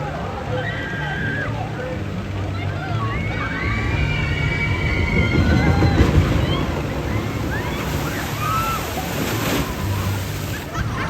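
A boat on a water ride at Cedar Point amusement park crashes down the hill into the water, sending up a broad rushing splash and surf-like wash amid wind noise, with crowd voices and chatter around it.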